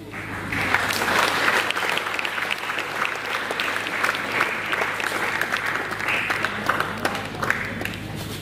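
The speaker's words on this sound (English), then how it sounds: "I request everyone to give a big round of applause." A college seminar audience at a Christmas greetings event gives a big round of applause, dense sustained clapping from a crowd holding steady for several seconds over a low constant hum.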